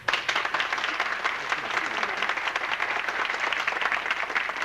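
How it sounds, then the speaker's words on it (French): Warm applause from the audience at a 1978 centennial celebration evening in Normandin, a steady, dense crowd clapping that holds at an even level throughout without any speech. "on vous félicite pour tout le dévouement que vous avez donné à l'organisation de ce centenaire. Je pense que vous méritez de"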